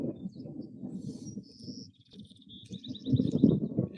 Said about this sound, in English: hear the bird song